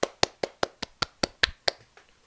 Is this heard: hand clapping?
yes